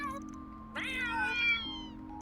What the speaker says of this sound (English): Oh, the cats are having a meeting.